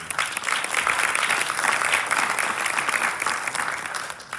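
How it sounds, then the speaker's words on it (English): Warm, continuous clapping from a panel audience at an NAMC young professionals event rolls on evenly throughout, with small swells and no voices on top. "I want to give a round of applause for this amazing, extraordinary, our future generation."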